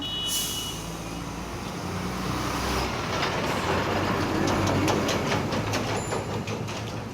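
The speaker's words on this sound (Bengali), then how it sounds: "রাস্তায় কি আওয়াজ" Busy street traffic roars steadily outside a roadside shop, trucks and buses rumbling past close by with a constant loud wash of engine noise and occasional sharp horn-like peaks.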